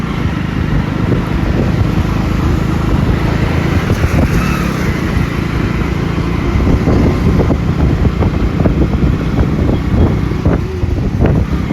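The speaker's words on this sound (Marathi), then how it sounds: "शनिवार रविवार आला की पुण्यामध्ये किती ट्रॅफिक असतं" Weekend road traffic in Pune, a steady loud rumble of passing cars and motorbikes with wind buffeting the microphone throughout, no voices.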